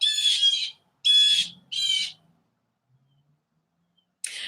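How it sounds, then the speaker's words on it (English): Three bright bursts of bird chirping in quick succession, then a pause and another brief call starting at the end, loud and close with nothing else around. "Can you guys hear that? The birds?"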